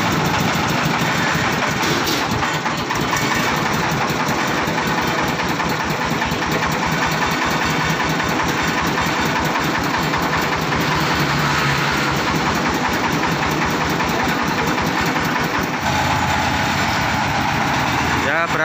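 Truck engine running steadily and loudly throughout while a grain huller is being loaded for transport, a continuous close rumble with people talking over it.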